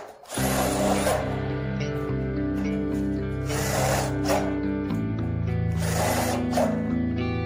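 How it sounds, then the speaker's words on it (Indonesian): A power drill drives light steel screws into a steel door frame, with loud sustained whirring in bursts, each pass ending in a higher-pitched screw-in whine, close by. "untuk di bagian sudutnya kita akan tambahkan lagi 2 buah baut baja ringan untuk masing-masing sudutnya"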